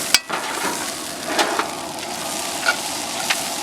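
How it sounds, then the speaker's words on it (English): Potatoes frying in oil in a camp pan, a continuous soft sizzle with a few sharp pops and clicks scattered through, close and moderate in volume, no talking. "We're going to let our potatoes crisp up a little bit."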